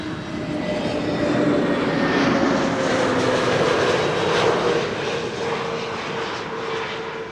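An Icelandair Airbus A321neo jet arrives at Amsterdam Schiphol with a loud, steady engine roar and whine that swells and slowly fades, heard near and alone without talk.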